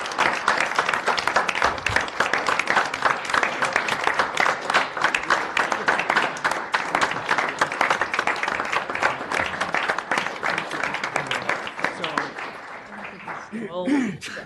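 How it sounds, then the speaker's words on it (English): Applause for members of a metropolitan council rolls steadily through a meeting room for about twelve seconds, dense and moderately loud, then thins out as a voice starts speaking near the end. "So let's give them a round of applause."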